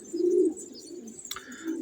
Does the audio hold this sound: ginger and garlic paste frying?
no